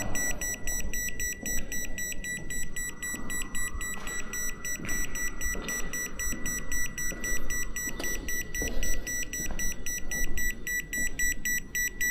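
An electric field meter sounds a high-level alarm in a disused former COVID-19 hospital in Surabaya, with continuous rapid high-pitched beeping over shuffling footsteps and room noise.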